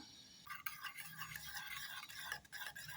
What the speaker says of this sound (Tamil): நல்லா கலந்து வச்சுக்கலாம்